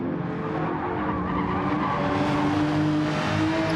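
A Porsche with a flat-six engine in a German Touring Cars sim race at the Nürburgring GP circuit, a loud steady engine drone with rising pitch as it accelerates, mixed with tire noise.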